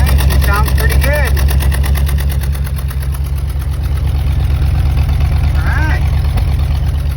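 A 1966 Ford Thunderbird engine idles in a steady, loud low rumble with a fine rhythmic pulse, while someone speaks briefly over it.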